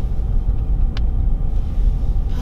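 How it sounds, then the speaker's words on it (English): Car passing somewhere behind a person outdoors, a steady low rumble of road traffic throughout with a brief sharp tick near the start, moderately loud and unbroken. "There's a car behind me. I'm just gonna make it go past."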